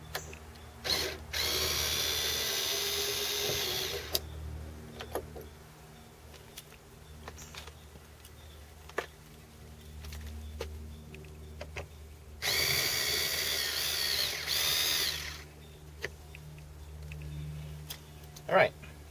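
A power drill backs two screws out of a 2001 Ford F150 door panel, with two separate bursts of whining drill noise, each a few seconds long, amid quiet shop noise and occasional clicks.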